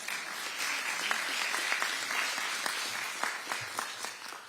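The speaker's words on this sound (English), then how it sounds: "So you do deserve a round of applause." Steady applause from a crowd at a New York governor's affordable housing announcement, dense clapping with a few sharper claps standing out, continuing evenly throughout.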